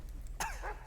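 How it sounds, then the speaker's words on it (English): A game character coughs from smoke grenade gas in Metal Gear Solid Delta, a single harsh cough burst near the end, fairly faint over low background hum. "those fucking coughs from the smoke grenade also slow down"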